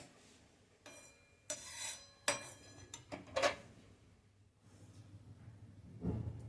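Roasted dal scraped and tipped from a pan onto a plate while making spicy amla pickle, heard as a few short rasping scrapes and light clinks of utensil on metal, fairly quiet with pauses between, and a last soft rustle of lentils at the end.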